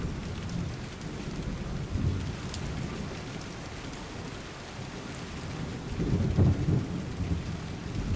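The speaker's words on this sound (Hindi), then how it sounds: "बारिश का दिन था, बिजलियां कड़क रही थी।" Steady rainfall with low rumbling thunder throughout, swelling louder near the end; no voices.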